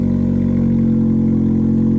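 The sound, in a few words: Fiat 500 cold start with Abarth exhaust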